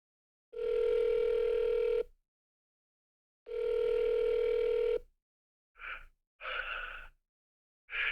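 Ringback tone from a telephone call to a phone number: two long, steady electronic rings separated by silence, then short breathy bursts as the line picks up.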